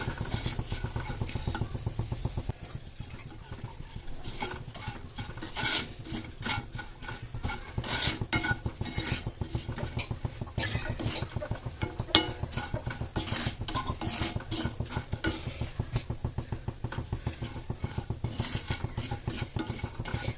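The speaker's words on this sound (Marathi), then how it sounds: "आता हा रवा चांगला भाजून घ्यायचा. लाल रंगाचा होईपर्यंत गोल्डन ब्राऊन ह्याला भाजून घ्यायचे." Semolina (rava) being dry-roasted in a pan for sheera, a spoon scraping and stirring in a steady rapid rhythm with frequent light metallic clinks against the pan, close and continuous.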